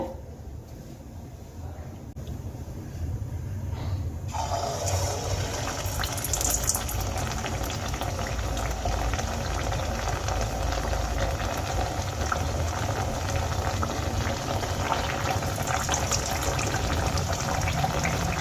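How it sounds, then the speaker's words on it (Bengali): Kachuris slipped one at a time into medium-hot oil, quiet at first, then a loud continuous hiss and bubbling frying sizzle from about four seconds on, steady to the end. "এবার আমি এই হালকা তেল গরমের মধ্যে কচুরিগুলো আস্তে আস্তে একটা একটা করে ছেড়ে দেব"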